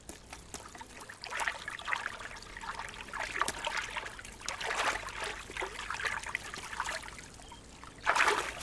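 An unspoiled stream on Hiiumaa trickles and gurgles steadily close by in soft irregular splashes, with a louder burst of splashing near the end and no voices.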